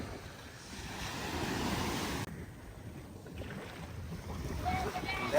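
Surf washing onto a beach in Kerala, a steady broadband roar with wind buffeting the microphone, loud and close throughout and briefly dipping partway through.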